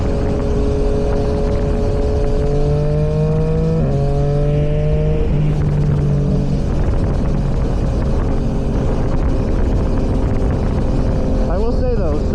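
A motorcycle rides on a freeway, with steady loud engine drone and heavy wind rush throughout and shifting tonal engine pitches. A person speaks over it.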